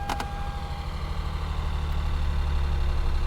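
A car engine idles with a steady low rumble, and a couple of faint clicks come at the start. No one speaks.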